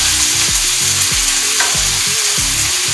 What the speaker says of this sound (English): I'm going to keep on folding this until the cabbage wilts.